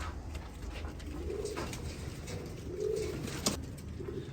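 Pigeons coo in a low, soft rhythm, several rounded calls rising and falling across the clip, steady and fairly close at a breeder's loft, with a faint background hiss and a brief sharp tap near the end.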